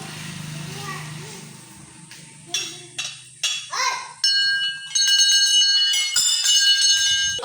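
Many small bells ringing at a Hindu temple shrine, a series of bright metallic strikes that begin after a stretch of background chatter and children's voices, growing denser and louder toward the end.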